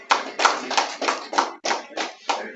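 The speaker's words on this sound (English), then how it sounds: "Let's clap for them, please." At a governing council meeting, a few people clap in a slow, even rhythm of about eight distinct claps, close and clear with no talk over them.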